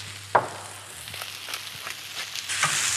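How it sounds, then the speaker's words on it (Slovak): Chopped zucchini and softened peppers stirred in a frying pan, a soft steady sizzle broken by a few scraping stirs and clinks, fairly quiet and with no talking. "Keď paprika trochu zmekne, pridáme nakrájenú cuketu. Opäť spolu premiešame."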